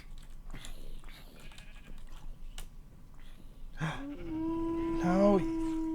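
Sheep bleating in Minecraft while wolves attack them, two or three wavering bleats near the end, following quieter game rustling and soft talk.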